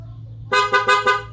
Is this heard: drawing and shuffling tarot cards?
no